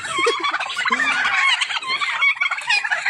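Loud, busy gobbling from a group of turkeys, overlapping warbling calls nearby that continue without pause, mixed with a few clucks.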